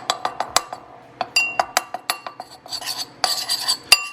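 A utensil stirs highlighter ink mixture in a glass, giving a close run of sharp clinks and taps against the glass, steady at first and then busier and denser, with one loud knock near the end.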